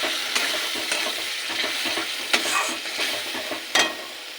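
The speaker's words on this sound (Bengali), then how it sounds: "পেঁয়াজটা ভাজা হয়ে গেছে, এবার দিয়ে দেবো বাটা মশলা" Ground spice paste frying in oil with already fried onions, stirred in repeated scraping strokes, with a steady close sizzle and a few sharper spoon knocks against the pan.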